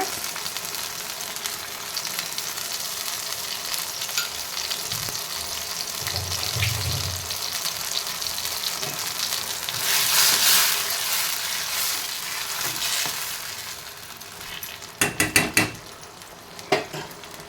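Salted tomatoes soften in a pan on a low flame, giving a continuous soft sizzle with occasional stirring scrapes and a few sharp metallic clinks of a utensil toward the end, with no voices.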